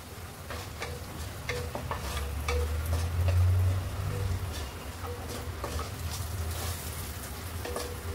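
Asafoetida sizzles in hot oil with chili for tomato rasam, a steady close frying crackle with stirring clicks and no voices.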